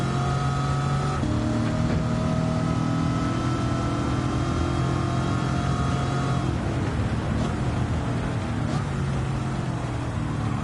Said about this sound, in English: all the superchargers sound super electric and modern